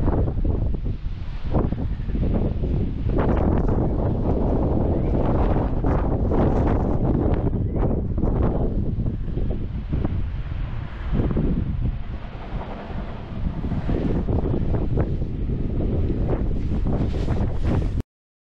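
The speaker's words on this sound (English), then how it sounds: "The waves are racing up the beach here, it's quite shallow" Waves race up a shallow shingle beach at Folkestone in January as the tide comes in, a continuous rushing surge swelling and fading, heavily buffeted by strong wind across the microphone.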